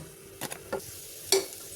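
Rice sautéed with spices in a pressure cooker for vegetable biryani: a few soft scraping stirs and light sizzling, close and quiet, with no talk.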